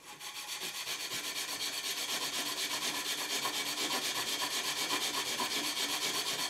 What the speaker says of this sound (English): To clean it, I'm going to use that, which is a Scotch Brite pad.